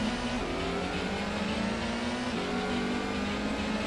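Engine of a Toyota Sprinter Trueno racing in the PlayStation game Gran Turismo, a steady buzzing drone that rises in pitch, drops with a gear change, and climbs again, with no talking.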